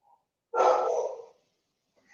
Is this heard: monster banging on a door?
no